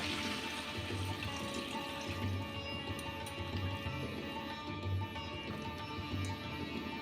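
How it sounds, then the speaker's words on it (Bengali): Hot water is poured into a pan of fried potatoes cooking in spices for a Bengali yogurt potato curry, giving a steady close rush of liquid with low bubbling underneath, continuous for several seconds with no talking. "দিয়ে দিচ্ছি গরম জল।"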